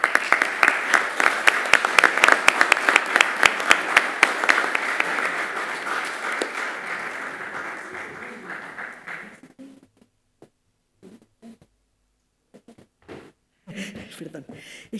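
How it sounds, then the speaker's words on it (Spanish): An audience at a presentation for a Bach Society magazine breaks into sustained applause, loud and dense at first, then thinning out and dying away into a few scattered claps and quiet room noise. "Le damos un aplauso y la invitamos a la testosa."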